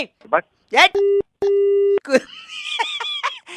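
Two steady, droning telephone busy-tone beeps sound after a hang-up, set between bursts of talking and a short laugh.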